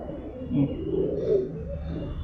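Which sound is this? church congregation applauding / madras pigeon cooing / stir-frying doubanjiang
madras pigeon cooing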